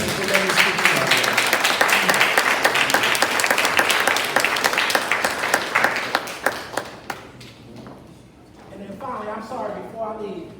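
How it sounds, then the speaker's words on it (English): Enthusiastic applause for graduates at a 2021 commencement ceremony, dense clapping that thins out after about seven seconds, followed by scattered claps and people talking. "let's just give our graduates a round of applause"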